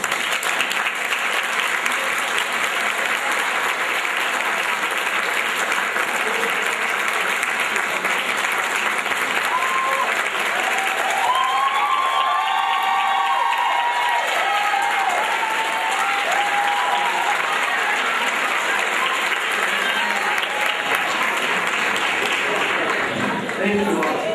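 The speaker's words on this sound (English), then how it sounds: "please join me in a round of applause for Mr." Sustained applause from an audience at an anniversary awards event greets a speaker introduced for his 4.2 grade point average, steady dense clapping with cheers and voices mixed in throughout.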